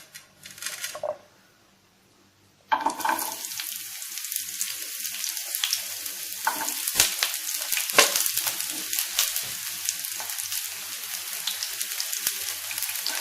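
Shallots sautéing in hot coconut oil, a close, steady crackling sizzle that bursts in after a short quiet pause and keeps up continuously with scattered louder pops.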